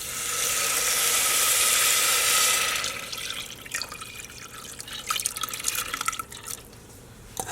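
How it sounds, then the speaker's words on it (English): Water is poured steadily into a pot holding lentils and pigeon peas for a few seconds, then tapers off into scattered drips and small splashes. "I am adding half cup of pigeon peas along with 2 cups of water."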